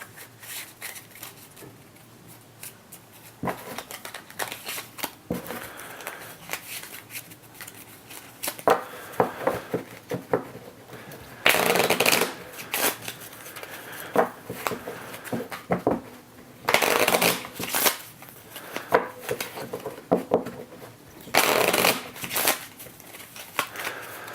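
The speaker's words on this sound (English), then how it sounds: "So these companions all get shuffled together." A deck of companion cards for the board game Sarah's Singularity is shuffled by hand on a table, with several bursts of riffling and rustling separated by quieter handling.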